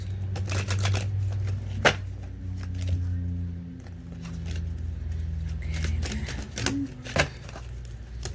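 Tarot cards shuffled and drawn at close range, with steady rapid papery clicking and flicking that runs through the whole stretch alongside a low background hum, and occasional sharper snaps as cards are pulled.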